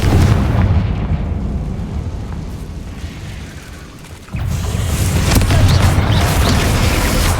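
Confringo fire spell explosion in the Hogwarts Legacy video game, a loud rumbling boom that decays over several seconds, then a second heavy blast with sustained crackling roar, no speech.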